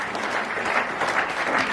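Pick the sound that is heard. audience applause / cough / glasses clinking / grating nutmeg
audience applause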